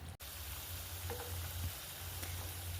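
Chilli chicken sizzles steadily in a pan, a soft, continuous frying hiss with faint pops, fairly quiet and close, preceded by a brief click.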